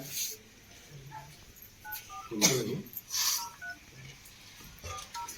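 A phone being dialled at a village council meeting, a handful of short, faint keypad tones spaced out among murmuring voices and a loud cough-like burst.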